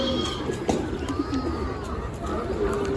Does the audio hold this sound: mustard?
no